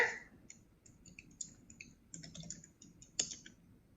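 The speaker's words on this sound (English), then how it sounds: "You can just click on assignments," A computer mouse clicks in short scattered bursts while someone browses a resource website, with light, close ticking and a sharper cluster near the end, all without speech.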